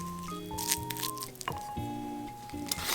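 Vegan mayo being stirred together with salt and pepper for gimbap filling: soft, wet squishing and scraping in short bursts, close by, under light background music.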